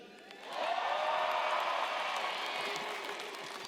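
A large audience at a CES keynote breaks into sustained applause and light cheering that swells quickly, holds, then slowly tapers off, heard from a distance in a big hall.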